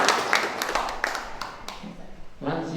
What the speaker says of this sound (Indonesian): Nah, beri tepuk tangan buat ketua.